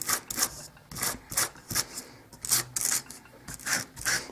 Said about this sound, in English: So you just peel some of this paper off to get an antique look.